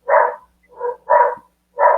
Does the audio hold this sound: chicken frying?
no